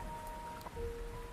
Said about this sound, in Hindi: इतनी तेज बारिश में ज्यादा देर यहां खड़ा भी नहीं रह पाऊंगा।